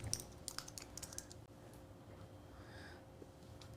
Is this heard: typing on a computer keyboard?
yes